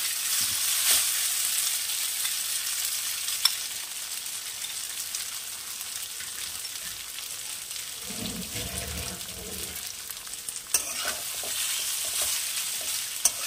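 Boiled vermicelli is stirred in a pan with cumin seeds, a continuous soft sizzle with scraping strokes and a brief lower rumble of movement near the end, without talk.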